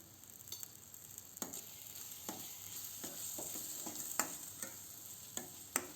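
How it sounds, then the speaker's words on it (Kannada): Girmit masala, a North Karnataka snack mixture, fries in a pan with a soft steady sizzle, broken by scattered light clicks and scrapes as it is stirred, fairly quiet and with no voices. "ಇದು ಇವಾಗ ಚೆನ್ನಾಗಿ ಒಂದು ಎರಡು ನಿಮಿಷ ಫ್ರೈ ಆಗಲಿ"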